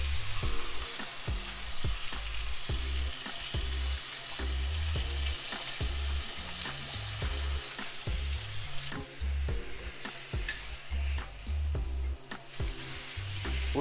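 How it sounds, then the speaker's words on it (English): A sirloin steak sizzles loudly and steadily as it sears in a very hot cast iron grill pan, with a constant crackle and occasional louder pops, and no talking. "I've got a cast iron grill pan really hot, and we're going to just sear it enough to create marks on either side"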